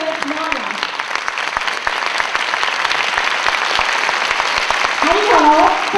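Audience applause at the opening ceremony of an international bartending competition in a performance hall, welcoming the Polish association president, with sustained clapping and distinct claps throughout while a voice talks over it.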